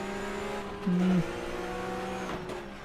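Brief squeal of a locking tyre under hard braking during a sim race at Oschersleben, a steady tonal screech over the drone of racing car engines, no voices.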